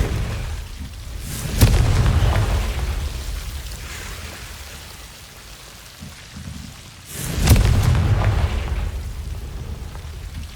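Two Confringo fire-blast spells explode in the Hogwarts Legacy video game, about six seconds apart. Each is a loud, booming burst that fades slowly over a steady, rain-like ambient wash.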